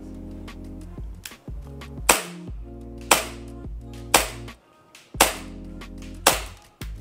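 Tokyo Marui Hi-Capa 5.1 D.O.R gas airsoft pistol fired through a chronograph at 20 degrees with 0.20 g BBs: five sharp, loud cracks spaced about a second apart, over a steady buzzing hum.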